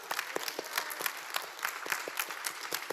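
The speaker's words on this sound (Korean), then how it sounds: "우리 이 하나님께 다 같이 박수로 영광 돌립니다." Church congregation clapping together during a sermon, a moderately distant crowd of hands with some individually distinct claps standing out, steady and unbroken.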